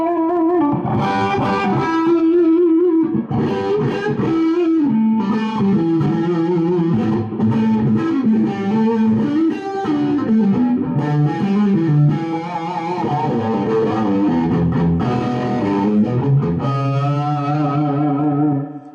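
Distorted electric guitar played continuously through a BluGuitar AMP1 on the modern channel, chords and riffs with a driven, saturated tone and some chorus-like shimmer, loud and close.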